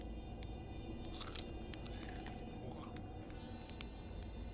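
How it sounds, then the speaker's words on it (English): Crunchy bites of a flambéed marshmallow in the game Outer Wilds, a series of close, crisp crunches over a steady background hum. "Nice and crunchy flambéed marshmallow."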